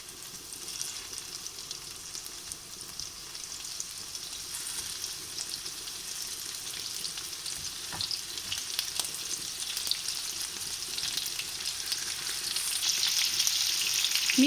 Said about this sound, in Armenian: թողնում ենք յուղը հալվի ու ավելացնում ենք միսը